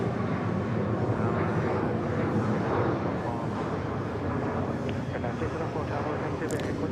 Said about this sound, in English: Another 737-800 freighter.